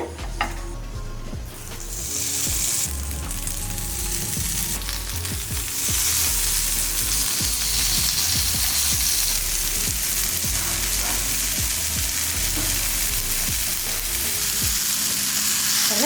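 Chicken pieces fry in a pan greased with only a little oil, giving a loud, steady crackling sizzle that runs the whole time, with occasional stirring scrapes and no talk.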